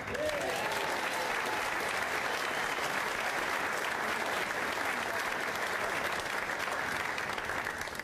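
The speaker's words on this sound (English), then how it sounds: "we'll give a huge round of applause for former United captain Martin Buchan" Dense, loud applause from a dinner audience at a 2009 Manchester United dinner, welcoming former United captain Martin Buchan; steady, close clapping fills the room for the full stretch without letting up.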